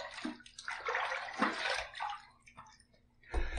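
A shaving razor is rinsed under running water, with splashing and trickling in uneven bursts, close and fairly quiet, ending in a louder slosh.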